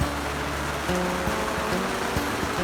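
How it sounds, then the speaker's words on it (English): Heavy rain pours down in a dense, continuous hiss, steady and close, during a thunderstorm aboard a sailboat, with faint low tonal sounds running underneath. "We got seriously heavy rain going on here"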